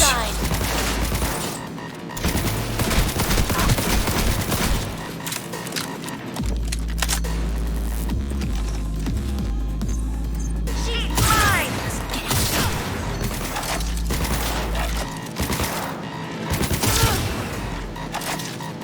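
Gunfire in the video game Cyberpunk 2077, dense loud volleys and booms over a thick game soundtrack and effects, with a voice speaking in places.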